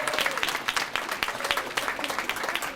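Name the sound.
audience applauding graduates at ceremony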